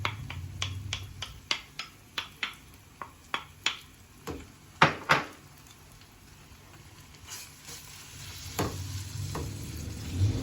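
Chicken pieces and coriander dropped onto wilted onion in a hot pan, giving a run of sharp clacks and sizzling bursts that fade into a quieter, steady fry.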